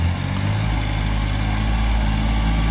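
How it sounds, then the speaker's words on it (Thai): A small Japanese tractor with a 15 hp three-cylinder direct-injection diesel engine runs nearby, a loud, steady low rumble with a throbbing mechanical beat and no voices. "เครื่องยนต์ 15 แรงม้า 3 สูบนะครับ เป็นเครื่องยนต์ direct injection นะครับ"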